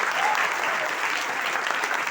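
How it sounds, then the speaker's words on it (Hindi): An audience in a hall at a direct-selling leadership event claps steadily and densely, a continuous wash of applause with no pause. "ताली बजाओ इनके लिए जबरदस्त"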